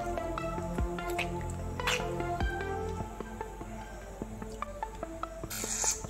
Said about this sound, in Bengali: সব পটলগুলো এরকম নিংড়ে তুলে রাখছি।